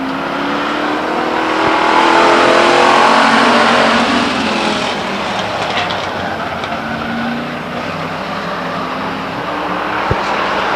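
Race cars racing at Stockton 99 Speedway, a loud roar of engines swelling as the pack passes nearby, then easing into a steady, more distant drone with a sharp knock near the end.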